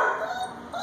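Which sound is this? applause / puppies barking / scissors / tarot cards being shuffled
puppies barking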